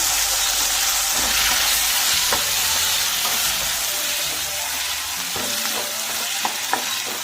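Chopped tomatoes and salt hitting a hot pan, sizzling and frying steadily while being stirred, with occasional clicks of a spoon against the pan and no talking.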